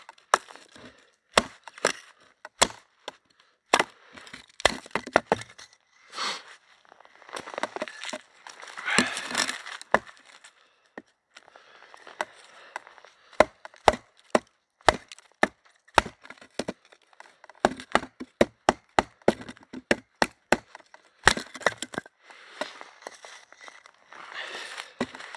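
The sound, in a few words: Condor Crotalus knife splitting wood, tapping on the handle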